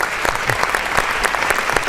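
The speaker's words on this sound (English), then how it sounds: "Please give her a round of applause." An awards panel audience breaks into applause for the moderator, dense continuous clapping close and loud with no speech over it.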